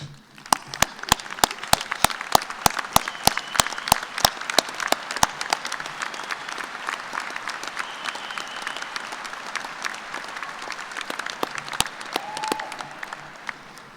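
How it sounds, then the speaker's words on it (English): An audience at Kansas State University's 2019 spring commencement for the College of Agriculture applauds steadily. Sharp individual claps stand out at first, then blend into a dense, sustained round of clapping that fades slightly toward the end. "graduates, let's show them a nice round of applause of thanks"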